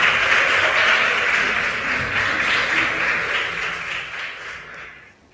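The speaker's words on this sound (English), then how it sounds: "Give them a round of applause." Audience clapping at a junior high school science and maths quiz contest, a dense even patter that gradually fades away over several seconds.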